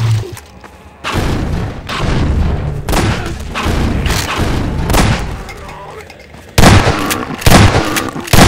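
Father Grigori in Half-Life 2 fires heavy booming shotgun blasts at zombies in Ravenholm, repeated loud shots in bursts with a voice speaking between them.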